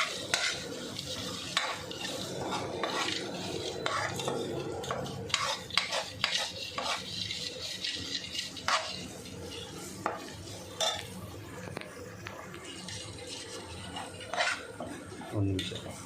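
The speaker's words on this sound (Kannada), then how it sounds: "ಇದನ್ನು ಒಂದು ಸಲ ಚೆನ್ನಾಗಿ ಎಣ್ಣೆಯಲ್ಲಿ ಬೆರೆಯೋ ಹಾಗೆ ಮಿಶ್ರಣ ಮಾಡಿ" Grated fresh ginger is stirred through oil in a pan for a North Indian chickpea dish, with a spoon scraping and clinking against the metal in irregular strokes over a soft, steady sizzle throughout.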